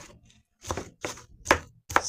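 A knife chopping vegetables finely on a cutting board, four crisp, evenly spaced thuds, close and moderately loud.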